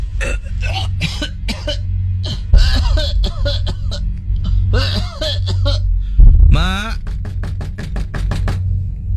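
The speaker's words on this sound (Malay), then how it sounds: "Dari dalam dengar bunyi orang batuk." Several short, sharp coughs in bursts, fairly close, mixed with knocking sounds and a voice speaking between them.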